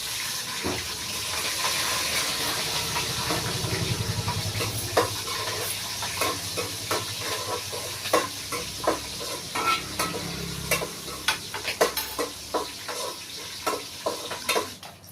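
Bay leaf and green chillies sizzle in hot oil in a pan for mutton biryani, a steady broad frying hiss with repeated sharp clicks and scrapes of stirring growing busier toward the end.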